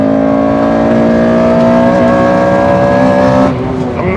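Honda K20 VTEC four-cylinder engine revving hard and steady at high rpm on the Nordschleife, loud and close, holding a sustained tone before dropping off sharply near the end with a brief shift.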